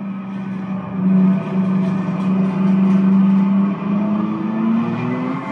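The BMW M4 GT3 racing car hums steadily inside a racing simulator game played on three screens, a loud, sustained engine tone that rises slightly in pitch toward the end.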